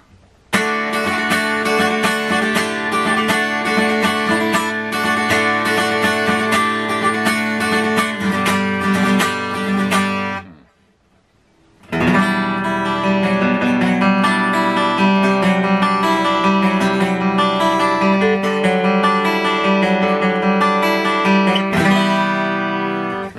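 An unamplified acoustic-electric guitar strums chords and picks notes, bright and close, with a brief pause midway before playing resumes.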